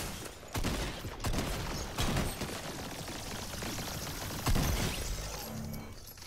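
Gunfire in the Fortnite video game, a series of sharp bursts and rapid shots at a moderate level, spread across the moment with a louder crack near the end.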